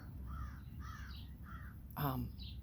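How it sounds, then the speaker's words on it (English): A crow caws several times in the background, a short series of hoarse calls with a louder, harsher one near the end. "that sound in the background, that's a blackbird or a crow"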